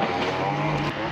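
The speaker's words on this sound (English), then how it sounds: "Sorry about the noise in the background of the guys strimming." String trimmer whining steadily in the background at a farm field, a continuous buzzing engine drone with a brief dip near the end.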